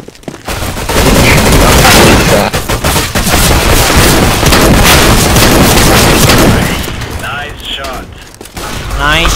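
Shotgun blasts in a shooter video game, heavy overlapping gunfire and booms filling the scene loudly for several seconds before tapering off, with faint voices mixed in.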